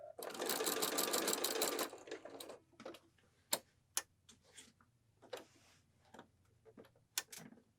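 A sewing machine fitted with a larger size 14 or 16 needle stitches through layers of medium to heavy fabric for a waist apron, running in a dense continuous burst for about two seconds, then falling to scattered clicks and ticks.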